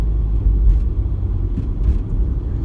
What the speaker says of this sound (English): There's the fire engine.